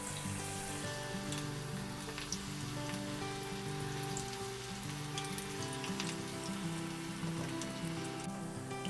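Mushroom masala pieces fry in hot oil at a roadside-stall style cooking setup, giving a steady, close, rain-like sizzle with fine crackles and pops throughout and no talking.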